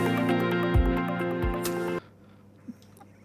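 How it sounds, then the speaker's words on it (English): Audio fed through a wave shaper distortion filter produces a buzzy, harmonically rich, saturated tone that holds steady for about two seconds, then cuts off abruptly into near silence. "we can drive this filter through this parameter called distortion"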